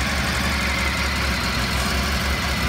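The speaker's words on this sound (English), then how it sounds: "Engine is right cool, just started it, with a little choke in it," Honda RC30 VFR 750R motorcycle engine idling steadily just after a cold start with a little choke on, a smooth, even low rumble that holds constant, close and moderately loud with no talking.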